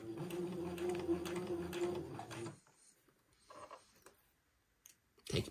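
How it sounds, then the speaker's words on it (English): Sewing machine stitching fabric slowly around a circle, a close mechanical whir for the first couple of seconds, then stopping, followed by a few faint taps and clicks. "sew it all the way around the circle. I'm going to go kind of slow"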